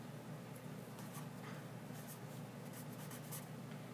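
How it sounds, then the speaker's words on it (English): A circuit diagram for a push-pull audio amplifier being drawn by hand, with soft, steady scratching strokes of pen on paper over a faint background hum, close and continuous. "I'd like to draw that circuit diagram for you"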